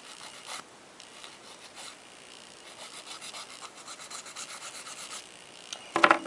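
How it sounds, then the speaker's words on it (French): A nail file rasps across gel nails in steady, close back-and-forth strokes, working from underneath up over the top of the nail, with a louder burst of filing near the end. "je lime comme ça dessous et je remonte progressivement sur le dessus de l'ongle avec ma lime"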